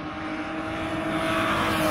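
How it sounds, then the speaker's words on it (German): Rival BMW 318ti race car driving past on the Hockenheim circuit, a loud continuous engine roar that swells slightly as it approaches, heard alone without talk. "So, da kommt unser Auto."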